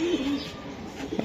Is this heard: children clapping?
no